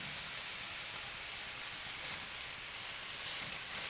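Kale greens sizzle in a hot pan, a steady soft hiss of frying that stays even and fairly quiet throughout with no voices.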